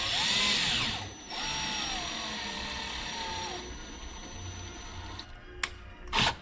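A handheld power drill with its clutch turned down to the lowest setting drives screws while installing an air system in a fish room, whirring loudly for about a second, then running in a long steady pass before a few short bursts and clicks.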